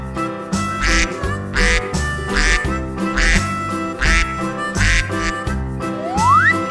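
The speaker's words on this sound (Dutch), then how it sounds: "Eend." Rhythmic duck quacks repeating over a steady music bed, each quack short and prominent, ending with a rising whistle-like sweep.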